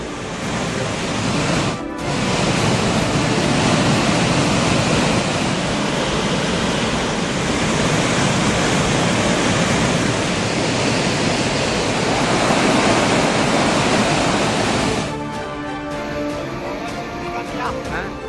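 Water gushing and roaring at Hogenakkal waterfall in flood, a loud, continuous broadband roar for about fifteen seconds before it abruptly gives way to a different, quieter sound.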